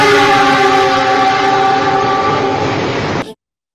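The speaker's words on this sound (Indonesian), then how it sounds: "referensi itu bilang ini klaksonnya lokomotif CC206 itu suaranya puang" Horn of a CC206 diesel locomotive: one loud, sustained multi-tone blast held for over three seconds, then cut off abruptly into silence.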